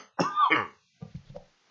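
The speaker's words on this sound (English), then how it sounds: "I apologize for coughing." A single harsh, close cough is followed by a few softer throat-clearing coughs, then quiet.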